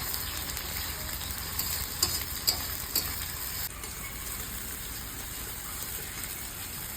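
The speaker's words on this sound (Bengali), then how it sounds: "এই যে পেঁয়াজটা লাল লাল করে ভাজছি," Onions frying in a pan until reddish for an Indian mutton kasa, a steady close sizzle with a few sharp crackles near the start, no talking.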